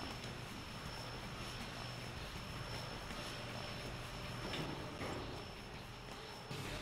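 Airplane flying overhead in the video game Red Steel, a steady broadband engine roar that holds level for about six seconds before cutting off abruptly near the end.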